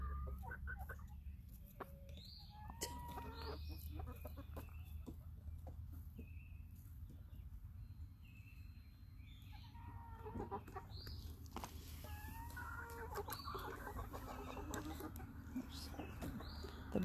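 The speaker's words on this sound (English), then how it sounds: "Will you crow for us?" Backyard chickens with a rooster among them, giving scattered soft clucks and brief calls at a moderate distance over a low steady background hum, with no clear crow.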